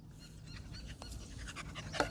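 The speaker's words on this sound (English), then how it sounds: "We're getting interrupted by a big old fluffy dog." A big fluffy dog pants steadily and close by, quick rhythmic breaths at low volume, with a brief louder sound near the end.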